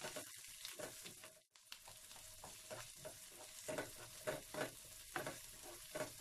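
Cabbage and vegetables stir-fried for cabbage Manchurian, a soft continuous sizzle broken by repeated scraping stirs of a spatula in the pan, fairly quiet with no talking.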